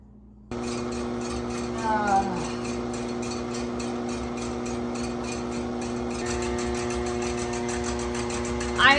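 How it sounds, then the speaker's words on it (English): An electric stand mixer whirs steadily while churning homemade butter, with a strong mechanical hum and a rhythmic rattling tick. The pitch shifts upward as the speed changes, and a brief squeak sounds partway through. "I'm going to lock my mixer and start going from a slow mix, working my way up."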